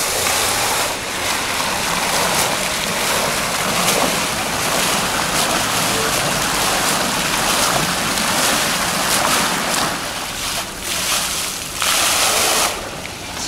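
Outdoor water fountain in Turkey in summer, putting out a steady, broad wash of splashing and falling water that runs unbroken and fairly loud, with faint breeze noise and no voices.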